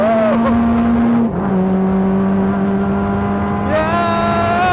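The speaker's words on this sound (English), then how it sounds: "A 4-speed H-pattern open-wheel race car that literally anyone is allowed to drive." Open-wheel race car with a 4-speed H-pattern gearbox, its engine droning loud and steady, pitch dipping briefly as it shifts then holding before climbing again near the end.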